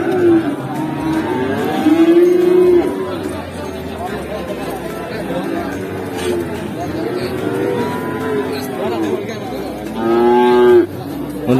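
Cattle at the Pasar Kliwon livestock market moo loudly in several long, drawn-out calls over busy crowd chatter and nearby talking.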